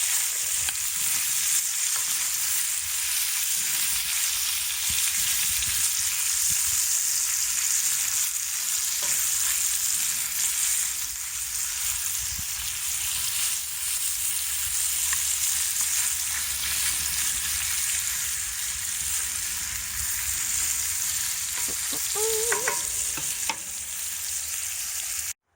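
Sweetbreads cook on a barbecue over direct heat, giving a continuous close sizzle and crackle with an occasional faint stir or scrape.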